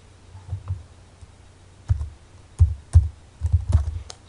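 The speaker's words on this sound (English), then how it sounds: "So I'm just going to type in my school address here" Computer keyboard keys clicked while typing in a school email address: sparse, irregular taps, then a few quick bursts of keystrokes, close and fairly clear with no talking.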